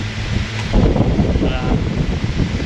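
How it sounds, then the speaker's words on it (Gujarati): A steady broadband whoosh of an air cooler blowing, close to the microphone, with a person talking over it. "ઘણા દિવસે કુલરની હવા ખાઈએ છીએ"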